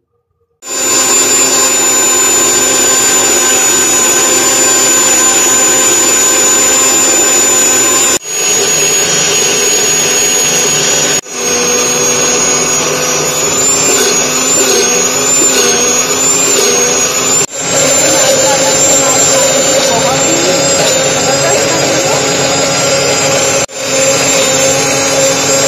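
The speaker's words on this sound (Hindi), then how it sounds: "हमने 2 मिनट के लिए अपने जो है ग्राइंडर को इस्तेमाल किया है" A kitchen grinder whirs continuously for about two minutes' worth of blending homemade mayonnaise, a loud steady motor drone with a high whine, interrupted by a few brief stops and restarts.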